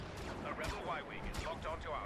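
A turret firing support fire in the Star Wars Battlefront beta during a Walker Assault match, with repeated sharp blasts in quick succession over a busy battle din, while a player talks over it.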